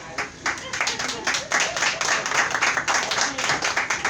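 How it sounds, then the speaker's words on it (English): An audience at a comedy show claps and applauds for a comedian coming to the stage, a dense burst of many hands lasting a few seconds, with a voice speaking over it. "So make a round of applause for Miss Julia."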